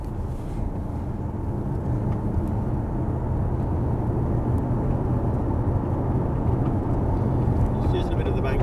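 A new Mazda 6 driving on a proving ground track, with a steady low engine and road drone throughout and people talking over it.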